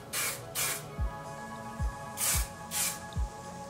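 Hairspray bursts onto hair, four or five short hissing sprays spaced irregularly, close and fairly loud over a quiet room.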